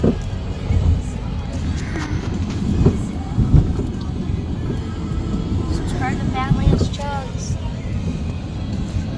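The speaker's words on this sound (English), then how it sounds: "Train, guys. There's a train right there." Train rolling past near the Ben Franklin Bridge in New Jersey, a continuous low rumble with clattering and squealing wheels, heard under people talking nearby.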